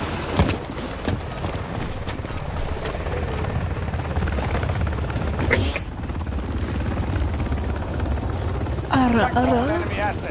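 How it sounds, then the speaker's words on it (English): Helicopter rotors thump loudly and continuously in a Modern Warfare Search and Destroy match, a steady chopping drone filling the whole stretch with brief game sounds layered on top. "I literally can't hear anything because the freaking helicopters, dude."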